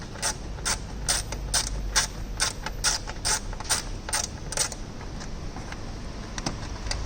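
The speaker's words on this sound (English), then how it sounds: "This is the screw that I will loosen." A ratchet tool clicks steadily in a fast run of ticks as a T25 screw is loosened during a Tesla Model X lighted applique installation, close and alone with no talk.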